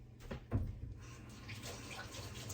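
Running water from a kitchen tap as hands are wetted to handle sticky bread dough, a soft, steady splashing stream with a brief louder gush early on.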